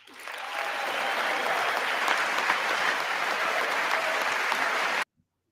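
Audience applause during a presidential address to Congress, a large chamber of people clapping in a loud, dense, sustained roar that builds quickly, holds steady, then cuts off abruptly.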